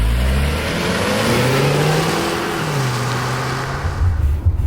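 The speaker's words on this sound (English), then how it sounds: "We're gonna do a 0 to 60 pull from" A 2019 Mazda6 Signature accelerating hard from 0 to 60, its engine note rising steadily through a gear, dropping at a shift and climbing again, loud and close from inside the car.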